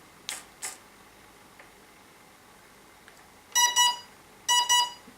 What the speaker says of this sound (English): there will be a constant beep coming from this engine